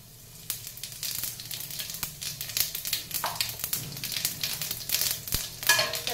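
Cumin seeds are dropped into hot oil for a curry and sizzle briskly, a crackling, spitting fry with sharp pops close by, growing busier as it goes, with no talk.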